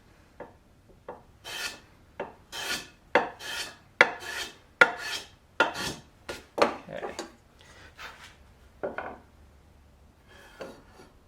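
A hand plane shaves a deeper chamfer along the edge of a large square wooden table leg, a series of crisp rasping strokes in quick irregular succession, close and clear, tapering to softer, lighter passes toward the end.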